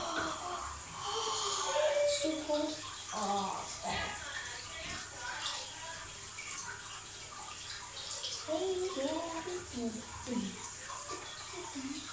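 Water runs steadily from a tap while hands splash beneath it, with a voice talking quietly over the flow.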